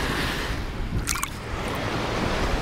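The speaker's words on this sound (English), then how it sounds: "I'm getting spanked around by the waves" Ocean surf washing and churning at a big beach, a steady broadband wash of water that stays loud and close for the whole stretch, with a brief higher clatter near the middle and no talking.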